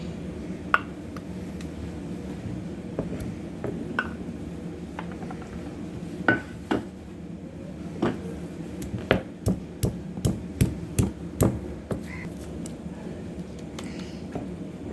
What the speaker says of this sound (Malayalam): ഇനി നമുക്ക് ഉള്ളി ചതയ്ക്കാം.